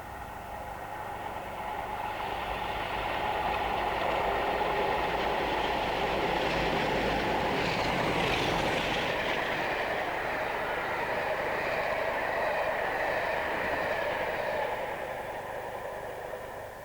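Two Class 33 diesel locomotives hauling a special train to the Crewe Works Open Day, a steady rolling rumble with wheel clatter that builds, holds loud and close while passing, then eases slightly.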